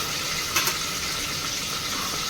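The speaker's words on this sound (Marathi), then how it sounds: "आता टाका लसण" Steady loud sizzle of garlic dropped into hot oil in a pan while cooking khichdi, a continuous hissing crackle with a brief clink of a utensil early on, close up and with no talk.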